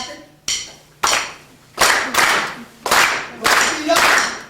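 Hands clap the son clave pattern at an Afro-Cuban percussion clinic: six crisp, loud claps in an uneven syncopated rhythm, each with a short room ring.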